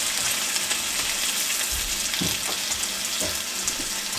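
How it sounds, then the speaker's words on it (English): Bacon cooking in a pan gives a steady broadband sizzle and hiss throughout, with a few soft low bumps from the pan, fairly close and continuous with no talking. "So I'm just going to let this bacon cook"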